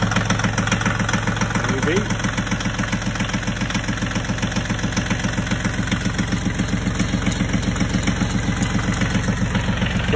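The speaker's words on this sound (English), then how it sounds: "Good little tractor." A small farm tractor used to haul a manure spreader cranks over and settles into a steady, loud, rhythmic chugging idle with a knocking pulse, close by, while someone briefly speaks over it.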